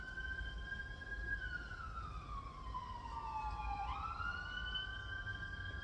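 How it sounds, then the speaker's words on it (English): A siren wails continuously, its pitch sliding slowly down and then sharply back up, heard at a distance over a low rumbling background. "Got the sirens."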